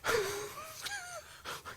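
Wheezing, raspy breaths from a grizzly bear play back from a recording, a few rough gasps with faint squeaky tones, heard fairly quietly and without speech.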